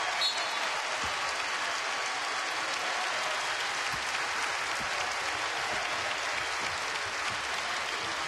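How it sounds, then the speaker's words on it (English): A crowd of Hawkeye fans gives a standing ovation at an Iowa NCAA women's basketball tournament game, a steady, dense wash of applause and cheering that fills the arena evenly from start to finish. "There is the standing ovation for the lone senior, Tiara Taylor."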